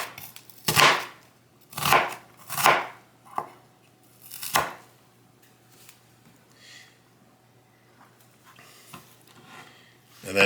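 A knife chops an onion on a cutting board: about six sharp, separated thuds at an uneven pace, close and clear over a quiet kitchen background.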